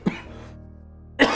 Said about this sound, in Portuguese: era tosse seca, igual essa que eu tô tendo agora